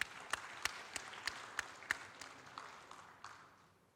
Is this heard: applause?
yes